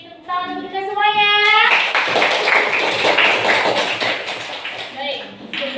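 A classroom of students bursts into about three seconds of dense clapping right after a brief voice, then the applause fades and speech resumes.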